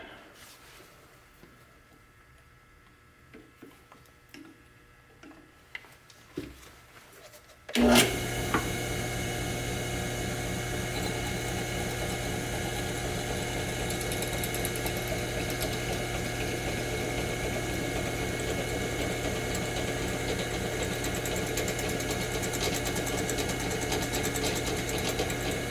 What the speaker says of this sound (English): Okay, let's ream it.